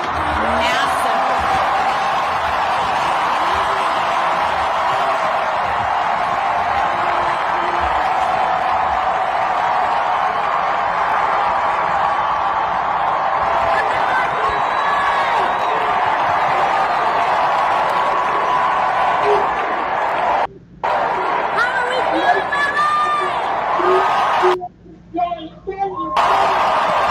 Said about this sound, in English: We just heard from Neil Young and a very exuberant crowd